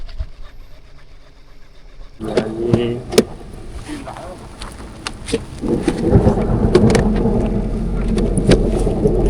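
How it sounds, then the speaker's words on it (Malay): Heavy rain pours down outdoors near a lake, with thunder crashing and rumbling. The downpour starts suddenly and swells to a loud, dense roar. "Hujan sudah lebat."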